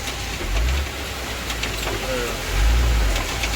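A stuck tipper truck's engine strains in a special low gear, a deep rumbling drone that surges louder in two heavy pushes. Faint voices sit in the background.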